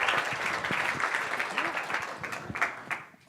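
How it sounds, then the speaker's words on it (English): Audience applause at a talk or presentation, a round of clapping from a crowd that stays steady and then fades out near the end, with a voice heard over it. "Big round of applause for Tom, please."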